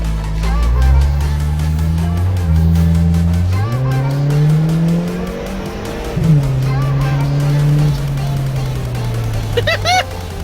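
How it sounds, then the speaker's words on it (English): Inside a moving 2006 Mitsubishi Eclipse with 192,000 miles, the engine drones and shifts pitch while a persistent rattle buzzes from the back, with some speech mixed in. "Listen to this wicked rattle in the back."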